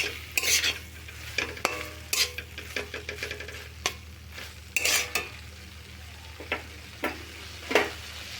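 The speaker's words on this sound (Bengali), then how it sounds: "গ্রেট করে রাখা ডিমগুলো দেব, একটু নাড়াচাড়া করে নেব মশলার সঙ্গে" Grated boiled eggs are stirred into frying masala in a pan, with repeated scraping and clinking strokes of a spatula over a soft, steady sizzle, close up and with no talking.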